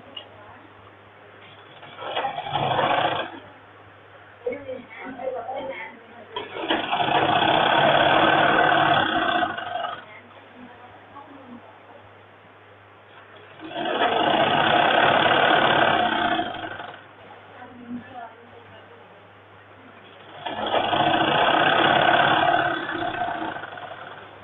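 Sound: sewing machine stitching a men's shirt seam

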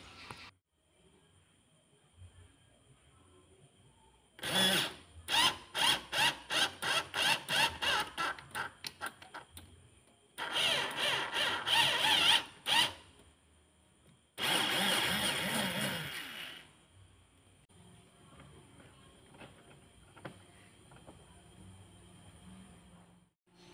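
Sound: tapping a thread into homemade aluminium grinder head

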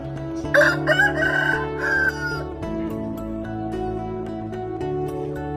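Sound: rooster crowing, young fighting cock

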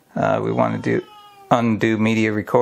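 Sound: old hungry cat meowing

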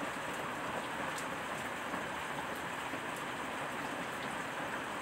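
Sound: heavy rain

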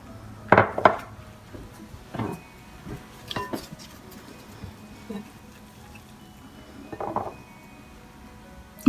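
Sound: mixing zalabia batter with warm water

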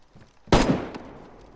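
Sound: gunfire from more than one shooter in the video game DayZ

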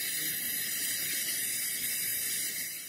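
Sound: spray bottle spraying onto fabric

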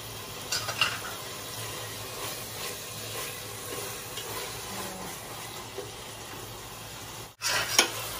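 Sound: sautéing hotdog with liver spread in pan

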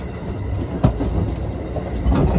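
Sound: Thunderbird limited express train running on tracks

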